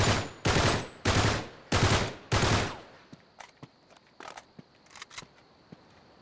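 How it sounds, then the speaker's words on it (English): Gunfire in the video game Uncharted: five loud, evenly spaced heavy shots in a row, followed by fainter scattered shots and clicks echoing farther off. "because the shooting's actually fairly loud, and I don't think my voice will go over the shooting"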